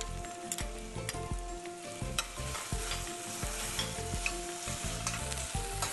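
Garlic and ginger sizzle and fry steadily in a pan while being stirred for shrimp in coconut, a continuous close crackle with faint spatula scrapes and no talking.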